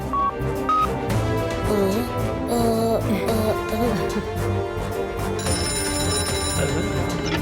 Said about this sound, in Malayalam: ഇനി ഞാൻ ലഡു സിക്സ് സാറിന് ഫോൺ ചെയ്തിട്ട് ഹെൽപ്പ് ചോദിക്കാൻ പോവാ